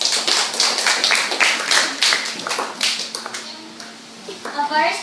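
Scattered clapping from a class audience applauding a student speaker at a classroom debate on gadgets, with sharp individual claps and light chatter, tapering off near the end as a voice begins.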